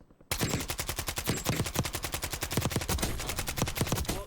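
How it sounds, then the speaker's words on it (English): Akimbo WSP Swarm submachine guns fire in one continuous, rapid, evenly paced stream in the video game Warzone, loud and close after a brief quiet start, with no talking. "we are using the Akimbo kit for the WSP Swarms"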